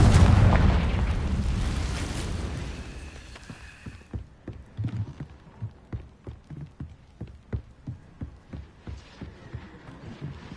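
Confringo blasting spell in a Hogwarts video game: a loud rumbling explosion that decays over several seconds, followed by a run of regular soft thudding pulses.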